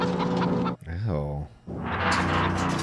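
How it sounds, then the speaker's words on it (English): A chicken clucks and squawks briefly in a scene from the horror film The Texas Chain Saw Massacre, a short rising-and-falling call set between stretches of loud talking and film sound. "Oh no, a chicken."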